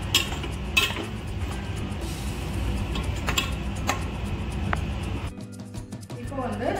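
Grated coconut stirred into tender coconut chicken in a pot, village style, with a spoon clinking and ticking against the vessel in light taps over a steady background hum.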